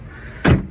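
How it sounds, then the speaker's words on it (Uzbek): The rear trunk door of a Changan minivan opens with a single short mechanical clunk and whoosh, close and loud after near silence. "Bagajimiz bunaqasiga ochiladi bo'ladi."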